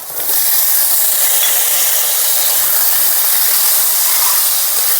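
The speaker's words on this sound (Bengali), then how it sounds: "এখন কেটে রাখা আলুগুলো দিয়ে দিচ্ছি।" Cut potatoes hit a hot pan already holding fried green chillies, giving a loud, continuous sizzling hiss that starts abruptly and holds steady, close by.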